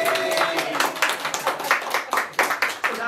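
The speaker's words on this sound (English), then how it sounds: "we'll just give them a round of applause" A small group claps for a quiz winner, a loose burst of hand claps that thins toward the end, fairly close and without talk over it.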